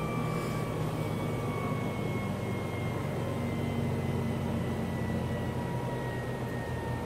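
A Sorvall RC 3B Plus laboratory centrifuge spins down and brakes, giving a steady, fairly loud whirring hum with constant tonal lines and broadband rush throughout, with no speech.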